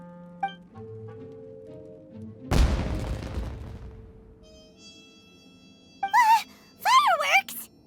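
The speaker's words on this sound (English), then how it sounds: "It sounded like fireworks." Fireworks bursting in the video game Genshin Impact: one loud booming blast with a crackling decay, then whistling, warbling rockets rising near the end, set against quiet game music.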